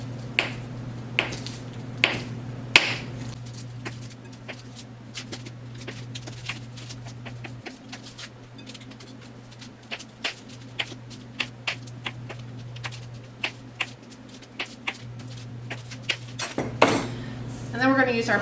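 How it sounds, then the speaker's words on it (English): Cold butter, one stick, being cut into small pieces with a knife for a biscuit flour mixture: a steady run of sharp, close knife taps and clicks against a cutting board, with a low hum underneath. "I am going to cut this in small pieces so that it's easier to work into my flour mixture"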